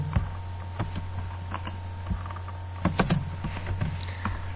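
Program code typed on a computer keyboard comes through as irregular clusters of close key clicks over a low steady electrical hum, with short pauses between bursts and no voices.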